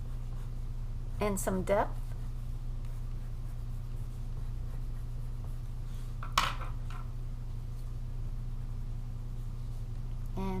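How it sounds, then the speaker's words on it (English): A watercolor pencil is worked over paper, adding layers of blue and purple, giving a soft, continuous scratching that sits faintly under a steady background hum, with a couple of brief spoken phrases. "I'm going back in on top with more pencil."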